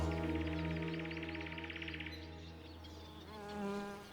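A steady buzz of wild bees at a bee hotel hums for a couple of seconds, then fades into quieter, wavering drones, close and continuous.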